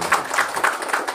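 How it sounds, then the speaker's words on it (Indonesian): An audience in a church claps together in a quick, even rhythm, with about four sharp bursts of hands close by and no talking. "Tepuk tangan dulu."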